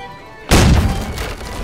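One heavy naval cannon booms from a ship in Holdfast: Nations At War, a deep close thud that rolls off into a long rumbling decay.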